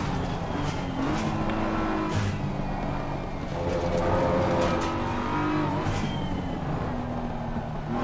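A Formula-style F1 M4 race car in a racing video game at Paul Ricard gives a continuous, loud engine roar with rising and falling revs as it pushes through the lap.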